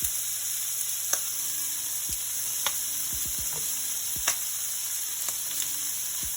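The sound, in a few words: tomatoes and basil cooking in a skillet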